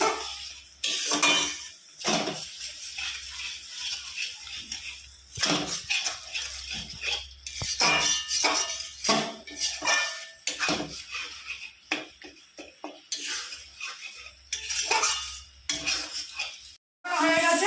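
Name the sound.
stirring and frying masala in a pan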